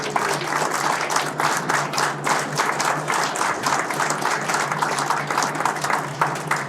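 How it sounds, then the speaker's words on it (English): A live audience at a Jesup Lions Club evening performance breaks into sustained applause for singer Sue Martin, dense steady clapping from a crowd filling the room without pause. "Let's give Sue Martin a big round of applause"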